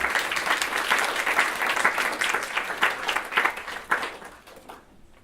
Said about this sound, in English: a big round of applause and welcome, Anita